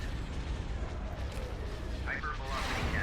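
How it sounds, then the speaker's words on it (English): A hypervelocity cannon fires in the Star Wars strategy game Thrawn's Revenge, a dense, rumbling barrage of heavy booms layered with sharp laser-like zips, loud and continuous with no pause. "Hypervelocity cannon firing."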